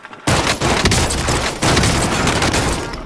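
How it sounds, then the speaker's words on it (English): Gunfire in a Resurgence-mode video game, loud and close, in two dense bursts of rapid shots separated by a brief gap. "I'm taking fire here."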